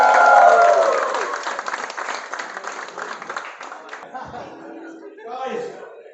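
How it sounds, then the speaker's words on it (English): Office year-end party guests at a hotel in Dubai break into loud applause with scattered laughter and chatter, the clapping strongest at first and then thinning out. "So give yourself a round of applause."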